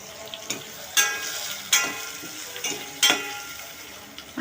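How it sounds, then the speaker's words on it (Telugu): Prawns fry in hot ghee for a gongura prawn curry, a steady sizzle broken by several sharp scraping stirs of a spoon in the pan at irregular intervals, close and clear with no talking. "ఈ నెయ్యిలో కొంచెం బాగా వీటిని వేపించుకుందాం"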